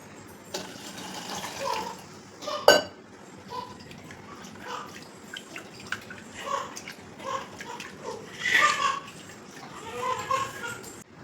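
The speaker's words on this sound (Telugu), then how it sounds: "ఇందులో తగినన్ని వాటర్." Water pouring into a cooking pot of neem leaves and raw mango pieces for Telangana Ugadi pachadi, a steady close splashing trickle with a sharp clank partway through and faint background sounds, no talking.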